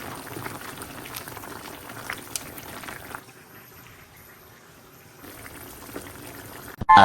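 Spicy mutton curry boils in a pot, a soft bubbling simmer that thins midway and returns before a sudden loud knock at the end.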